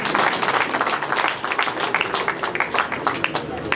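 Crowd applause at a youth football club tournament in Gitega, held in memory of the club's founders, with dense, steady clapping mixed with voices throughout.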